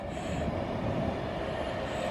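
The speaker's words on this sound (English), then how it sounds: "There's a train coming in there" A train rolls into a railway station, a steady broad rumble of wheels on rails with a faint high squeal, moderately distant and continuous with no talk.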